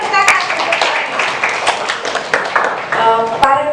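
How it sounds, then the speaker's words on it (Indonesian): A classroom group claps for a participant during a math lesson, with quick uneven clapping, a few sharp individual claps standing out and voices murmuring underneath. "Ya, beri tepuk tangan."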